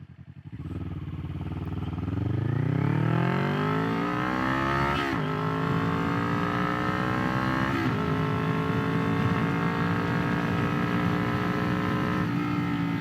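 Kawasaki Ninja 400 motorcycle engine, a 2021 model, revving up steadily while riding, the pitch climbing through the gear at around 7,000 RPM with a brief dip at a shift, loud and continuous with no talk.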